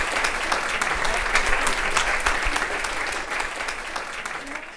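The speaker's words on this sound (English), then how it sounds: "if we can give them a round of applause" Audience applause at a women's leadership event, a sustained even roar of many hands clapping that tapers slightly toward the end, heard alone without speech.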